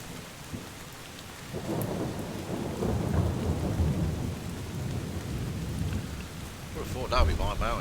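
Thunderstorm in the video game Drizzlepath: Genie, a steady wash of rain with low rumbling thunder that swells and lingers, and a brief voice near the end.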